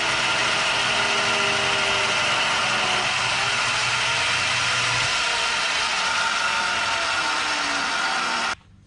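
A single-phase 1.5 hp lathe motor labors under a heavy cut, a steady loud whine with shifting tones and strain, running continuously before stopping abruptly near the end.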